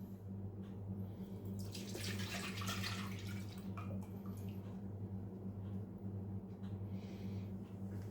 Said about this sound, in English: I'm going to pour my oil in.